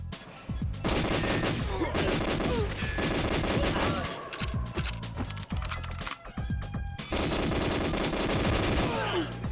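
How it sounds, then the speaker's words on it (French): Rapid bursts of automatic gunfire in the first-person shooter GoldenEye, loud and continuous across the clip with brief pauses, mixed with mechanical clicks and game effects and no talk. "Qui c'est qui tire? Qui c'est qui tire?"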